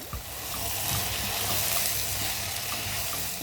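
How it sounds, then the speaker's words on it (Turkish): Two cups of washed bulgur added to a hot pan of vegetables for bulgur pilaf, giving a steady, close sizzle and hiss with faint stirring scrapes and no talking. "Şimdi artık yıkamış olduğum 2 su bardağı bulgurumu ekliyorum"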